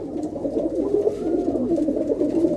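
Pigeons in a loft coo close by, their soft, throaty, rolling calls overlapping continuously and steadily.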